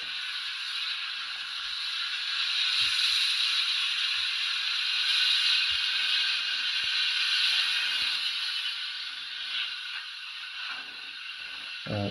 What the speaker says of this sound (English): 17 is safety valves.